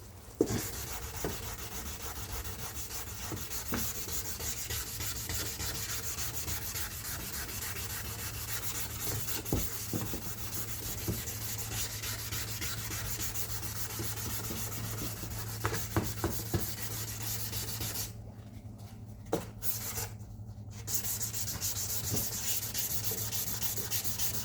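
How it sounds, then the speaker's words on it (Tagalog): A car headlight lens is wet sanded by hand with 420 grit sandpaper, making a continuous rhythmic scratchy rubbing that repeats in quick strokes, close up, with two brief pauses near the end. "lihain mo rin siya ng susunod nating liha ay 420."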